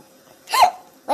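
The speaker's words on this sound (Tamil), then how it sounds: "விக்கல் இப்படி வந்துகிட்டு இருக்கு நிக்காம." A person hiccuping repeatedly: two short, sharp hiccups about half a second apart, close and clear, with no talking.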